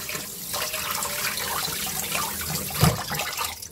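Water drains from blanched bibimbap vegetables in a kitchen, a soft continuous splashing trickle with a small thump near the end.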